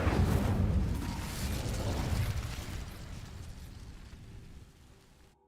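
A roaring whoosh of flame from the Incendio fire spell being cast in Hogwarts Legacy, loud at first and slowly fading over several seconds, with no one talking.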